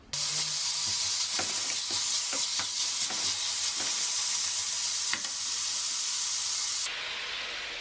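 Chicken meat with a little salt and oil sizzles loudly in a pan for a Thai-style sauce, with repeated stirring scrapes and clanks close up and a steady frying hiss throughout.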